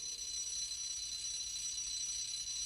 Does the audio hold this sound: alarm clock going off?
yes